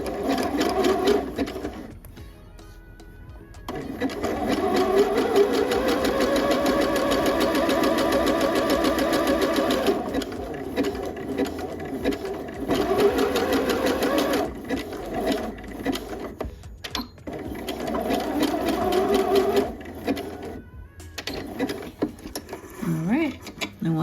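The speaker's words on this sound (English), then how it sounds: "let's go ahead and stitch our neckband center back seam together using a zigzag stitch" A sewing machine runs a zigzag stitch along the center back seam of a top's neckband, whirring steadily in long close bursts with short pauses where the run stops and restarts.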